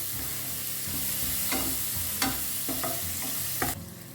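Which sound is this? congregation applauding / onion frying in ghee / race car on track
onion frying in ghee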